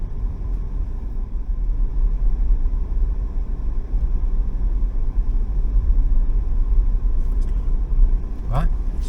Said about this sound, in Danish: så kører vi ombord på færgen på Molslinjen her fra Aarhus